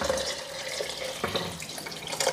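Measured water poured into a pressure cooker for tomato rice, a steady splashing trickle close by, continuous for a couple of seconds with no speech.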